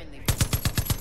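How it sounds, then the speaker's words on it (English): Turret gun firing in Far Cry 5 arcade maps, a rapid, loud automatic burst of evenly spaced heavy shots starting abruptly after a brief quiet moment. "Ah, I got a turret gun."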